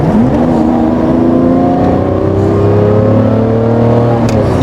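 A high-mileage Lamborghini Murcielago LP640 Evo driven on the road, its engine loud and close with a steady, throaty roar and rising pitch as it pulls through the gears, no voices over it.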